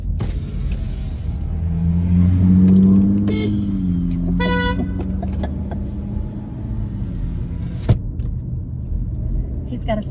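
A car with a skeleton strapped to its roof pulls up with a swelling engine rumble, then gives a pair of short horn toots, followed by a sharp knock near the end. People talk over it, close and fairly loud.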